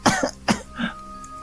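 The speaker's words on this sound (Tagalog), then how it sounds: "Umubo muli ang babae." A woman coughs three times in quick, harsh bursts, close by, followed by a softer throaty rasp.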